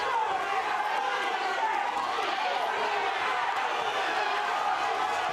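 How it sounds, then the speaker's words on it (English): A boxing crowd roars steadily through round nine of a fight, a dense, continuous wall of cheering and shouting heard from within the arena, with commentary over it. "And the crowd really caught up in this."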